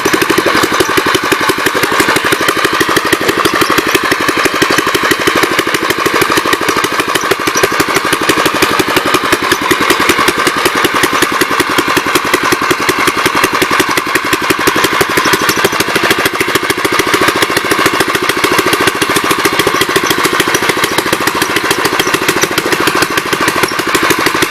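A 1954 L tractor engine runs steadily at close range for the whole stretch, a loud continuous chugging drone with no talk over it.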